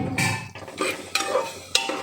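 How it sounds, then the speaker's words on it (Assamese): Marinated mutton frying in a pressure cooker while being stirred, with loud close sizzling and repeated scraping strokes of a spoon against the pot, no talk. "মটনখিনি এতিয়া ধুনীয়াকৈ মই অলপ সময় ভাজি ল'ম।"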